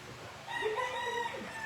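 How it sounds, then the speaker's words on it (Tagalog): A rooster crows once, a loud drawn-out call with a rising and falling shape, heard alone against light background noise. "Ganda ng sounds natin dito eh. Tilawak ng manok."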